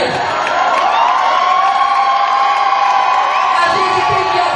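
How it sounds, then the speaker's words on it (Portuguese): Crowd at a pride parade in a central city square in Jacareí, cheering, whooping and shouting together in a loud, sustained roar with shrill voices rising above it. "isso merece muito aplauso e muito grito"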